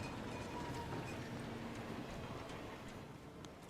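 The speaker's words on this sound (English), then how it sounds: "It's the train." A train in the video game The Thaumaturge rumbles steadily throughout, a dense, continuous rolling noise with faint rhythmic clatter and a few light metallic ticks, fairly even in loudness and slightly fading at the end.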